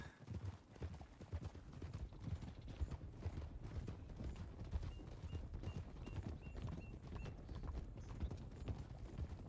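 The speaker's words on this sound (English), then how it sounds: "sometimes the horses sound way friggin' loud" Horse hooves in a video game clip-clop in a steady, uneven rhythm, fairly close, with faint mechanical background noise and no talking.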